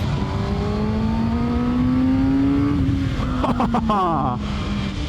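A Kawasaki Ninja ZX-6R motorcycle pulls at full throttle, its engine note rising steadily under heavy wind roar, then dropping through quick shifts near the end, with a rider talking over it.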